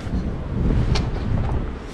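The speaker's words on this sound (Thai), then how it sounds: "ว้ายลมแรงมาก" Strong wind on a snowy mountaintop at Semmering, Austria, buffets the microphone as a steady, loud, low roar with gusty swells throughout.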